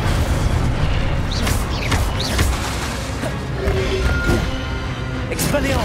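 Incendio fire spells from Hogwarts Legacy burst in loud, booming whooshes, several in quick succession amid crashing combat noise and other spell effects. Voices speak over the fighting.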